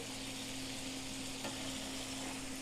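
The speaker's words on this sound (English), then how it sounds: "I just want to butter baste them like this" Beef tenderloin sizzling in a pan while being basted with butter, rosemary and garlic, a dense, steady frying hiss heard close up and alone.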